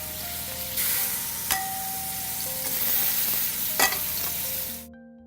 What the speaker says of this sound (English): You should hear that sizzle when it hits the pan.